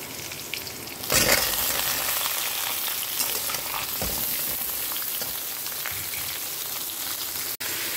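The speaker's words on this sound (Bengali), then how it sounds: "এবার আমি এর মধ্যে ঝিঙাটা অ্যাড করে দেবো।" Sliced ridge gourd hits a pan of frying potatoes with a loud burst of sizzle, which settles into a steady crackling fry with occasional stirring scrapes.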